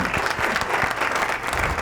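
Studio audience at a Ramadan quiz show breaks into a steady burst of clapping, dense and close, sustained throughout with no voices over it.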